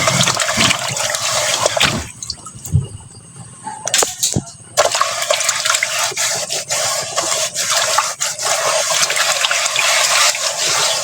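Water runs loudly from a tap while a frying pan is washed, a close, continuous splashing rush broken by brief gaps and shifts as the pan moves under the stream.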